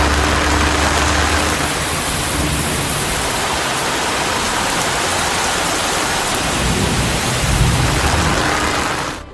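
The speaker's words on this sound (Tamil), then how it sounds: "மாலையில் சுமார் 1 மணி நேரத்திற்கு இடி மின்னலுடன் கூடிய கனமழை பெய்தது" An evening heavy rainstorm with thunder and lightning pounds Tirupur, Tamil Nadu, as a loud, unbroken roaring downpour with deep low rumbles running underneath.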